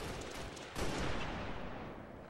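A sniper rifle shot rings out in an online multiplayer shooter during a flag match, one loud crack followed by a decaying tail over dense game noise.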